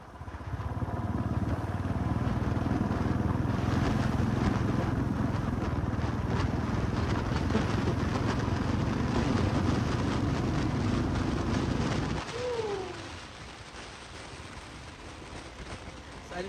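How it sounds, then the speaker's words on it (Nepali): A motorbike rides along with steady engine drone and heavy wind rush for about twelve seconds, then the roar drops away to quieter road noise as the bike slows. "हावा र बाइकको आवाज सुने है गाइस"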